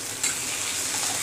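Tomatoes frying in a pan for a dry nathli curry, a steady bright sizzle that holds evenly throughout, close and continuous with no voices.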